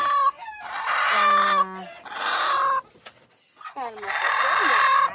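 A gray hen clucks and squawks loudly nearby in three agitated bursts separated by short pauses as eggs are placed under her.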